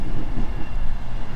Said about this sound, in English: the trains appear to be running because one's just come by